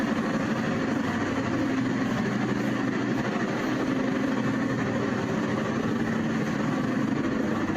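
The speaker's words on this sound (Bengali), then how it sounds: "সিলেটগামী কালনী এক্সপ্রেস 3:30 বাজে ছেড়ে যাওয়ার কথা। এই ট্রেনটি প্রস্তুত করা হচ্ছে যাওয়ার জন্য।" The Sylhet-bound Kalni Express idles at Kamalapur station in Dhaka ahead of an Eid departure, a steady low engine rumble with broadband station noise, constant and unbroken.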